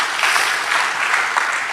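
A church congregation claps together in steady, dense applause throughout, fairly loud and with no voices over it.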